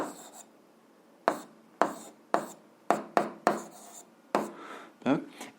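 Pen or marker writing a math equation on a surface, heard as a series of short close scratchy strokes in quick bursts separated by brief pauses.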